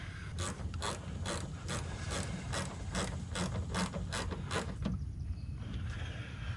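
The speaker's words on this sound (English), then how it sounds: "then just tighten down these screws all the way" Ratchet tightening fender flare screws on a Chevy Colorado, a close run of about ten quick, evenly spaced clicks that stops shortly before the end, leaving a low background hum.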